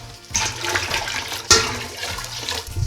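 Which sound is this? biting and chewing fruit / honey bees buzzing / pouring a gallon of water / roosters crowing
pouring a gallon of water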